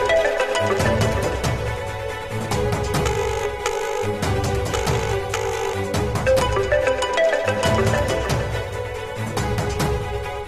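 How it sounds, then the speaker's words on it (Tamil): A phone rings with an incoming call, its melodic ringtone playing steadily and loudly for about ten seconds, with no talk over it. "ஸ்ரீஜா மேடம் ஃபோன் பண்றாங்க."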